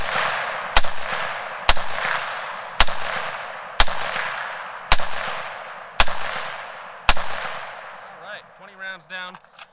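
Rifle fitted with a cheap eBay muzzle brake fires seven sharp, very loud shots at about one-second intervals outdoors, each crack trailing a short ringing decay, followed by brief rustling handling noise.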